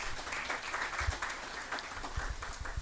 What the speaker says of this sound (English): ladies and gentlemen, a round of applause for our ladies